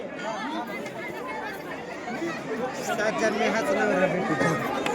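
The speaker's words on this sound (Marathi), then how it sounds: "गर्दी आत मंदिरात बापरे" Dense crowd chatter inside the temple at the Jejuri hill fort, many voices overlapping in a steady, close hubbub that grows slightly louder toward the end.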